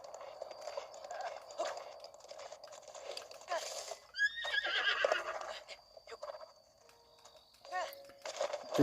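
A horse neighs in The Legend of Zelda: Breath of the Wild, a short whinny standing out over busy game music and ambience, with a second fainter whinny later.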